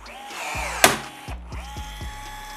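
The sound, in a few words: rivet tool setting rivet on Ski-Doo bumper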